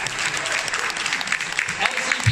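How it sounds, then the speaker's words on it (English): Audience clapping at a Hong Kong event, a dense steady patter of many hands throughout with voices mixed in underneath. "You're welcome to clap if you like."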